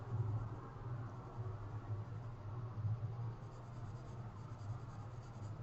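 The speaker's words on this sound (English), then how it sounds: "So I'm trying to fade up with my pencil a little bit so it doesn't just look like an outline" Steady, soft scratching of a pencil shading across paper, continuous strokes with a faint rhythmic pulse, close and quiet with a hiss of background noise.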